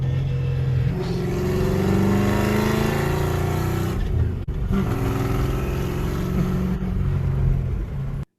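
Deep, steady rumble of a straight-piped Mustang engine at light throttle and low revs, loud and close, with a gritty burbling exhaust note holding even throughout.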